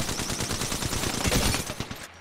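Rapid automatic gunfire in the battle royale game Apex Legends, a sustained burst of closely spaced shots rattling loudly and continuously for about two seconds before stopping.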